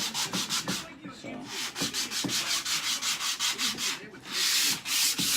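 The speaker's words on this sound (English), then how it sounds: "This surface that we're scuffing is the surface that will be in contact with the fiberglass in the head." Hand sanding scuffs an HDPE surface with quick, rhythmic back-and-forth strokes, loud and close, with a short pause before a longer final stroke.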